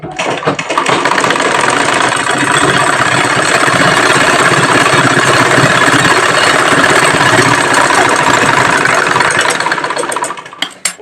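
A sewing machine runs continuously while stitching the hem of a salwar leg, a loud, steady mechanical whirr with rapid needle clatter that holds without a break for about ten seconds before stopping.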